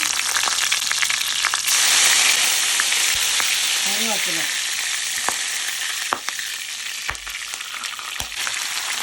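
Garlic and chili crackle in hot oil with mustard seeds and cumin, a loud, close, continuous sizzle with occasional spatula scrapes and clinks, and a brief faint voice partway through.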